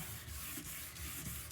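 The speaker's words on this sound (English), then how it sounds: "So, I'm going to put it back on the sanding block." A sanding block rubs back and forth across a plastic car headlight lens, faint rhythmic scratchy strokes repeating about every third of a second, with no talking.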